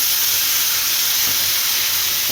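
Tomato dropped onto onions frying in hot soybean oil, producing a loud, dense steamy hiss that fills the clip steadily from start to finish, close up with no voices.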